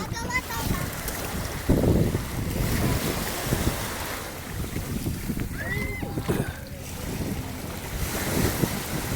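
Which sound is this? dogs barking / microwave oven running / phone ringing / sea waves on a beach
sea waves on a beach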